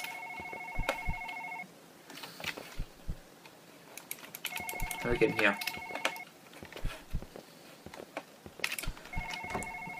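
A telephone rings in a video game in three repeated electronic double-tone bursts at a moderate level, with someone talking and clicks between and under the rings.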